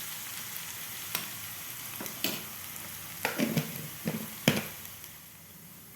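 Onions frying in oil until crispy make a steady broadband sizzle, with a few sharper crackles and stirring scrapes spaced through it at moderate, close-up volume.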